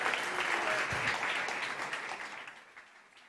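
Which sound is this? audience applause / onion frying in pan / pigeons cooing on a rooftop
audience applause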